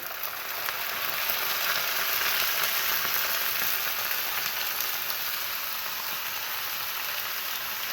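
Gourd peel frying in hot oil, giving a steady, dense sizzle that hisses evenly and without pause, close and fairly loud with no talk over it.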